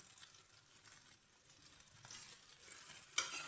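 Broad beans frying on a low flame while a spoon keeps stirring them, a low continuous sizzle with gentle scraping and a brief louder clatter near the end.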